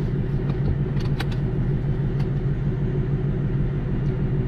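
Tuned 2020 Ford Mustang GT V8 idling at operating temperature, a steady deep rumbling burble held close and even throughout, with a few light clicks over it.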